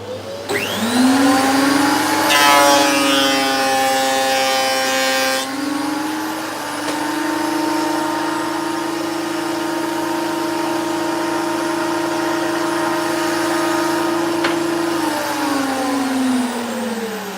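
A wood planer runs steadily with a loud, sustained motor whine and rushing hiss, spinning up at the start, holding a constant drone with a brief rougher burst early on, then winding down near the end.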